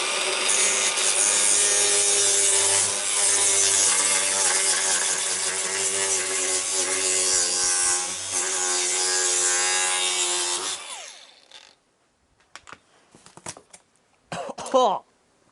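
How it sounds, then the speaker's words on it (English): An angle grinder cuts through cardboard with a loud, sustained whining grind and rasp, then stops, leaving scattered rustling and handling noises. "Can we cut cardboard with an angle grinder?"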